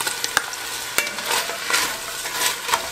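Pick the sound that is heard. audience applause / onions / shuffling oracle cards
onions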